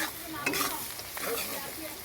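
Chopped onions frying in a pan with salt and turmeric are stirred, giving a soft scraping stir over a light sizzle, with a couple of clearer scrapes standing out.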